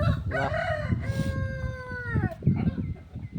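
A chicken calls close by, with short clucks and one long, drawn-out squawk in the middle, over a low background rumble.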